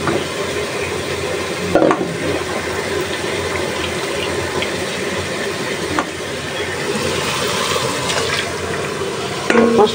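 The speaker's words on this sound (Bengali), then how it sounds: "আদা বাটা রসুন বাটা জিরা বাটা তারপর হলুদ মরিচ ধনিয়ার গুঁড়া কিছু একসাথে দিয়ে মশলাটা ভালোভাবে কষায় নিই।" Ground ginger, garlic and cumin pastes with turmeric, chili and coriander powders fry in a pan while being stirred, a steady close sizzle and scraping over ten seconds with a few louder knocks and no talk.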